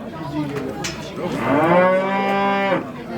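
A single cow at the Kentau livestock market lets out a long, close moo that rises and holds for over a second before breaking off, with faint market bustle behind it.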